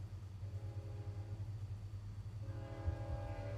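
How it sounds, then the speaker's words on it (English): A train passes at a distance with a low continuous rumble, while a horn sounds in sustained tones that fade and then return more strongly. "I like that train, dude."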